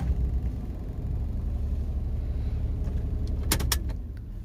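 A car engine cranks and catches after the locked steering is freed, a steady low rumble throughout with a short burst of sharp starter clicks near the end.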